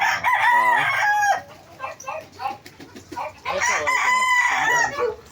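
Chickens cluck and roosters crow loudly and close by on a farm in two long bursts, with scattered clucking and a little background noise between the calls.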